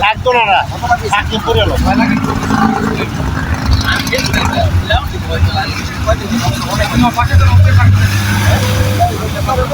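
A speedboat engine drones steadily on a trip toward Maheshkhali, a low, continuous roar heard beneath people talking throughout.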